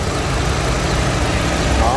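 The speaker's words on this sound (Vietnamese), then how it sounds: "Máy nổ rất là êm." A Lacetti CDX 1.6 DOHC car engine idles, a steady low, even hum that holds constant and fairly loud throughout.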